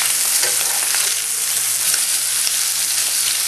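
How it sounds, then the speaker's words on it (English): Egg, bacon and peppers fry on a hot flat-top griddle, a loud continuous sizzle and crackle with a low steady hum underneath, close and without talk. "Egg sizzling in the back."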